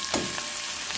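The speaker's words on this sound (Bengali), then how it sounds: "পেঁয়াজটা আমাদের ভাজা ভাজা প্রায় হয়ে এসছে, আর একটু ভাজবো লাল করে" Onions sizzle and fry in oil in a pan, a soft steady crackle with a brief stir or two, close by and quiet.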